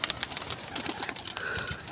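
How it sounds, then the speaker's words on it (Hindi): Pigeons arrive to land at a pigeon club loft where grain is being scattered, with soft flutters and faint cooing close by, fairly quiet and with no talk. "ये कबूतर उतरने के लिए आ रहे हैं"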